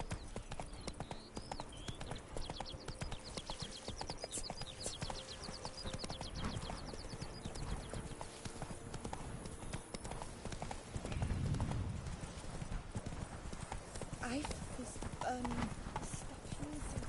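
Roach the horse gallops in The Witcher 3: Blood and Wine, a steady rapid clip-clop of hooves running throughout, with a brief whinny and a voice talking over it.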